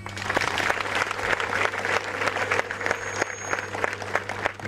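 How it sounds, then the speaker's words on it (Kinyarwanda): A church congregation on a hillside parish applauds to welcome parishioners at a Mass, giving dense, sustained clapping from many hands throughout. "namwe muntize amashyi yanyu tubakire"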